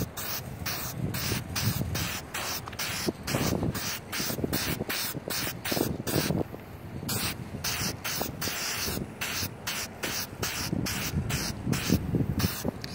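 An aerosol spray paint can hisses onto the side of a car in many short rhythmic bursts, close and steady, with brief gaps between each pass.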